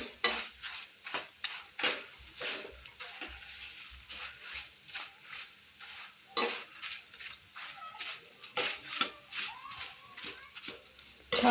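Maize chivda fries in oil for Sangli-Kolhapur style bhadang. Irregular bursts of utensil scraping and clatter against the pan sit over a faint sizzle, with pauses between strokes.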